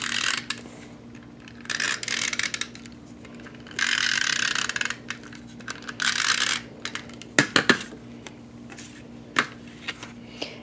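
A Snail adhesive tape runner rolls across a 5 1/4 by 4 inch layer of basic black cardstock. Close, ratcheting clicks come in short bursts, separated by a few sharp taps and handling noises.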